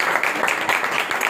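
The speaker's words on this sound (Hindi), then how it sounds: "आप अपने लिए तालियां बजाएं" A church congregation at Universal Gospel Church claps together in a short burst. The applause is dense and steady and fills the room for just over a second.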